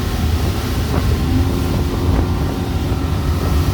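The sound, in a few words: Pro-Line 24 SS motorboat running at speed on water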